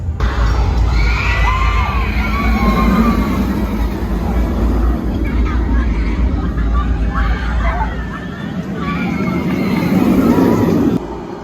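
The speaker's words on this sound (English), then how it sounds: "Here we go with the final ride on Thunderbird of the day." Crowd noise and excited shouting from riders on the Thunderbird roller coaster at Holiday World during a night event, a steady loud roar of voices and cheering with rumbling ride noise underneath, building again near the end.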